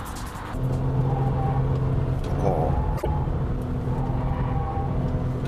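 A new Porsche 996 Turbo working through a slalom, a steady close engine hum with a faint rise in revs and one sharp thump partway through.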